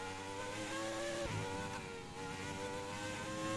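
A Formula 1 car engine in the video game F1 2020 drones steadily at high revs, with a brief dip and gear shift partway through, loud and continuous.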